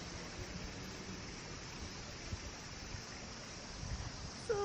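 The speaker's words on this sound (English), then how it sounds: "Show you guys the river here. It's a nice river." A river flows through Tokyo, heard as an even, continuous rush of water that holds steady throughout with no talking.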